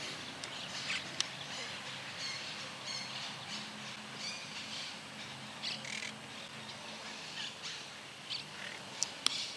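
A cattle tyrant gives harsh squawking calls in open country, repeated in irregular bursts at moderate distance, with other faint bird calls around it.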